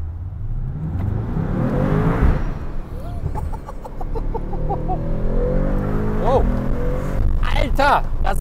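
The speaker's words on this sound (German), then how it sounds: "das ist die krasse Beschleunigung" The 900 hp Mercedes-AMG based Brabus Rocket 900 pulls hard, its engine droning loud and rising in pitch through several gear changes, with excited voices heard over it.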